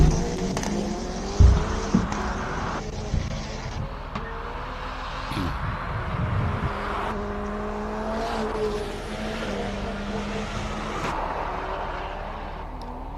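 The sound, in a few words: race car climbing Simola hillclimb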